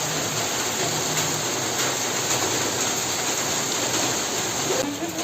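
Rain falls outdoors as a steady, dense hiss that runs unbroken for the whole stretch, with a faint voice buried low in the wash.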